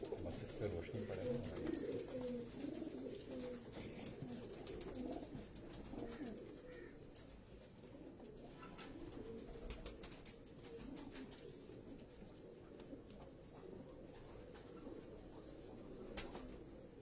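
Pigeons coo softly and flap their wings close by in a Karachi loft, low murmuring calls under someone talking throughout, with wing flutters scattered in between.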